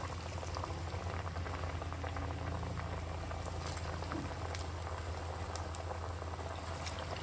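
Sweet corn vadas frying in hot oil over a medium flame, giving a dense, even bubbling hiss that holds steady throughout with no talking.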